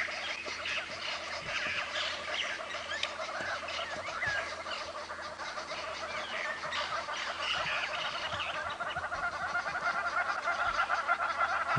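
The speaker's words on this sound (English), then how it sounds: "The birds are going absolutely crazy back there." Many birds, including hornbills, starlings and orioles, call at once in a dense, continuous early-morning chorus of chirps and whistles on a safari drive, fairly loud and steady throughout, with no talking.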